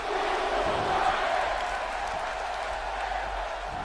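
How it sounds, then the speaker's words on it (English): A dense crowd cheers steadily during a Money in the Bank wrestling match in the WWE 2K17 video game, a loud, even roar that holds for about four seconds. "Right now, the crowd behind Daniel Bryan"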